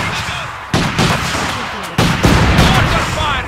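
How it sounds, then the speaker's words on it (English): Battlefield gunfire and mortar blasts from Company of Heroes 2, with loud sharp impacts landing in bursts over dense, continuous combat noise, and no voices in the mix. "Mortar fire is coming!"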